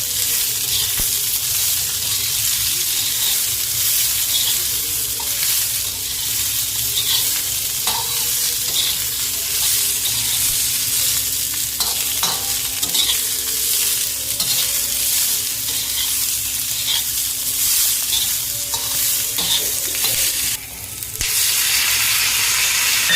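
Green chillies sizzle and fry in a pan for a chicken dish, with steady broadband crackle and repeated scraping stir strokes, close and loud, no talking.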